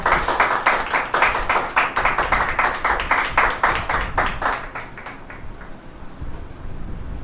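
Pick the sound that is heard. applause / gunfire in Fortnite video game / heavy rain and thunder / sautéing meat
applause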